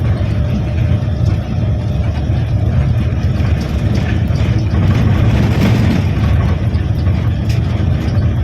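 A DAMRI bus engine drones steadily at low pitch while the coach heads toward the Pamulihan toll gate to join the Cisumdawu toll road, a continuous loud rumble with road noise and no pauses.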